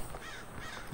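Birds cawing in the sky of the State of Decay 2 video game, a couple of faint crow-like calls over a steady hiss of ambient game noise.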